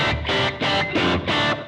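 An electric guitar played through a Zoom MS-50G multi-effects patch with spring reverb, analog delay and a booster engaged rings out in four loud, evenly spaced distorted strums.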